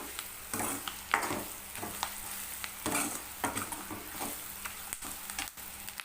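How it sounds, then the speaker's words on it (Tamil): Onions sauté with masala in a pan, giving a soft, continuous sizzle with repeated scraping stirs from a spoon, fairly quiet and close. "மசாலா போட்டிங்கனாவே சீக்கிரம் வெங்காயம் வதங்கிடும்"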